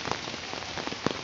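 Steady rain patters close by on a surface, a dense, even hiss of drops with occasional louder individual splashes over a brief moment.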